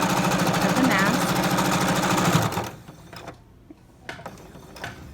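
Sewing machine stitching around the edge of a fabric face mask, a fast loud continuous mechanical whir for about two and a half seconds, then stopping, followed by quieter handling noises.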